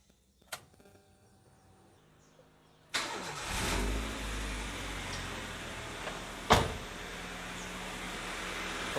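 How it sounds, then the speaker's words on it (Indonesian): A car engine cranks and fires up during a radiator flushing job, catching abruptly with a burst of noise, then settling into a steady idle with a brief louder surge partway through; a faint click comes before the start. "Oke, saya start mesinnya ya."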